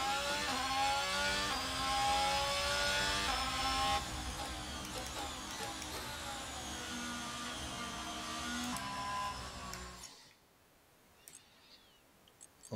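An F1 car engine from the F1 2022 video game on the Brazil track, a loud, steady high-pitched whine with shifting harmonics for about ten seconds that then cuts off, leaving near silence with faint clicks.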